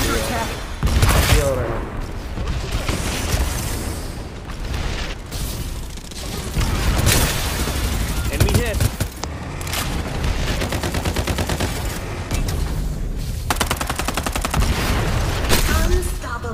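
A gunfight in the battle royale game Farlight 84, with dense bursts of automatic gunfire, booms and mechanical clatter continuing loudly throughout, while people talk over the action.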